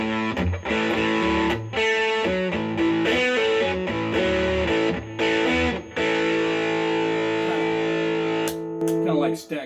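Distorted electric guitar played through an overdrive distortion pedal with a boost, sustained, heavily overdriven chords and notes with brief gaps between phrases, loud and saturated.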